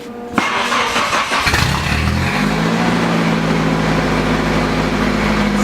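A car engine cranks and catches after a sharp knock, then settles into a loud, rough, steady idle that drones on close by with a low, tractor-like rumble.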